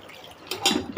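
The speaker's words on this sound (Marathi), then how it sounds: "आता थोडं पाणी टाकून घेते।" Water poured into a pressure cooker in a home kitchen while cooking a traditional Konkani vegetable dish, a short splashing pour that swells partway through and comes in a couple of close bursts.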